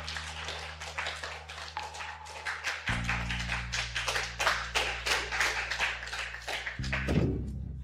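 Applause breaks out at a charity auction, a dense stretch of many hands clapping that swells and holds steady under low background music.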